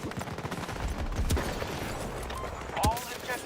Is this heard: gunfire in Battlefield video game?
yes